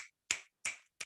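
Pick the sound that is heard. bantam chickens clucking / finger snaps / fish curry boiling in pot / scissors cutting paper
finger snaps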